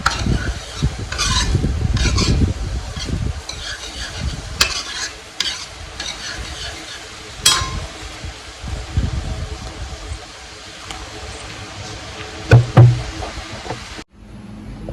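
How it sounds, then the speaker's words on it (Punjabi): Vegetables being tempered in a pan, with close stirring and scraping over a steady sizzle, interrupted by knocks and clatter, growing quieter in the middle and then stopping abruptly near the end. "ਚਲੋ ਜੇ ਆਪਾਂ ਸਬਜ਼ੀ ਲਾ ਲਈਏ ਤੜਕਾ"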